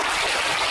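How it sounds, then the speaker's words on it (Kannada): Loud, dense applause from an audience honouring teachers, a steady wash of clapping filling the whole short moment with no voices over it. "ಟೀಚರ್ಸ್ಗೆ ನೀವು ಜೋರಾಗಿ ಚಪ್ಪಾಳೆ ಕೊಡಲೇಬೇಕು"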